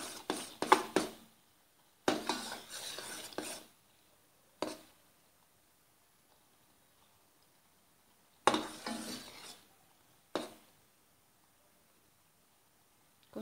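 A spoon stirring a puffed rice mixture in a pan on the stove, heard as a few separate bursts of scraping and rustling with quiet gaps between them and no talking.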